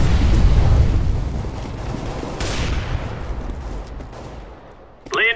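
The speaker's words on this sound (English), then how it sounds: "Incendiary out." A burst of loud, rumbling game combat fills Counter-Strike, with heavy booming fire under in-game voice chatter, then a short sharp metallic clink and hiss near the end as an incendiary grenade is thrown.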